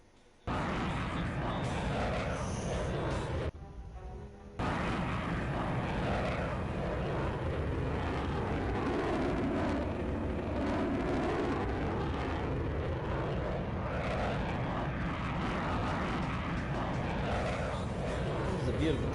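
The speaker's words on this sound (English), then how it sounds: "This is a beautiful jet." A jet aircraft roars loudly and steadily in a Vietnam War combat game, a dense continuous engine rush that drops out briefly near the start before surging back and holding for the rest.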